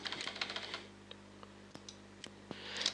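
Code is typed on a computer keyboard in a string of quick, close key clicks that thin out into a few isolated taps and then pick up again at the end, with no voices.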